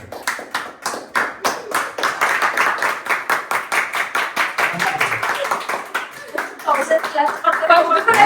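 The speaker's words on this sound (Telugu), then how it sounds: "వెయ్యి సార్లు క్లాప్స్ కొట్టాలి. కొట్టండి." A small group claps hands in quick rhythmic bursts, sharp distinct slaps repeating steadily and then blurring into faster, looser clapping near the end, with voices talking and laughing over it in a casual home setting.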